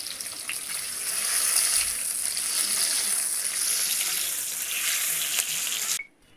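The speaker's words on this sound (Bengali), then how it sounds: "সেদ্ধ করা আলুটার মধ্যে লবণ মাখানো ছিল মা দিয়ে দিল ভেজে নেবে ঝোলের আলুটাকে" Salted boiled potatoes fry in hot oil in a wok, giving a loud, continuous close-up hissing sizzle that cuts off abruptly near the end.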